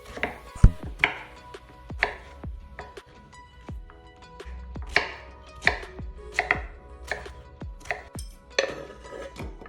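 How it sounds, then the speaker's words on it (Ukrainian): Knife chopping peeled pumpkin into cubes on a board, a steady series of sharp thuds at an uneven pace, close up with no talking. "Очищений гарбуз я нарізаю на довільного розміру кубики."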